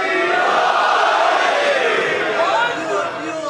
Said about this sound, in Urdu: قبلہ صاحب کی صحت و سلامتی کے لیے بلند سے بلند نعرے